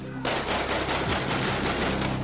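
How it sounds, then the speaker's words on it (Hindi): Dramatized gunshots fired at Robert Kennedy, a rapid burst of about eight loud, close shots in quick succession that fills the whole clip, with no speech. "उसके तुरंत बाद उसने रॉबर्ट कैनेडी के जिस्म पर गोलियां दाग दी।"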